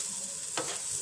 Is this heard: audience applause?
no